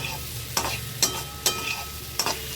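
Spice masala sautéing in a pan for Bengali ghugni, with a spoon stirring and scraping at a steady pace over a low sizzle. Four or five distinct scrapes come close and clear, with no voices.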